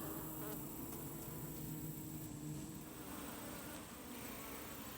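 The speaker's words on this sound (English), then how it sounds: "Looks like a lot of bees in there." Honey bees buzz steadily inside an opened Langstroth hive during an autumn inspection, a dense, continuous drone that stays close and fairly loud for the whole stretch with no talking.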